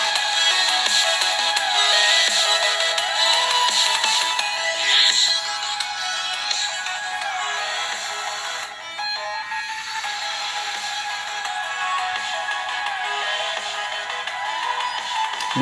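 Music, a bit of dubstep, plays loud from the rear speaker of an Evolio Aria Mini 8-inch Jelly Bean tablet turned to maximum volume, a dense bright wash that continues steadily with a brief dip midway.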